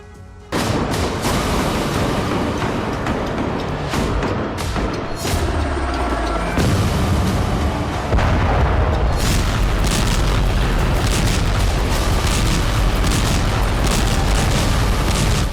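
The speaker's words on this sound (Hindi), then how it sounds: "गाजा का अल शिफा अस्पताल एक बार फिर धमाकों से दहल उठा।" Explosions shake Al-Shifa hospital in Gaza during an Israeli military attack after midnight, a loud, dense barrage of booms and cracking blasts that continues almost unbroken.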